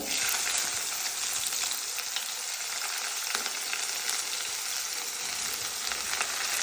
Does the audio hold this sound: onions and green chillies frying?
yes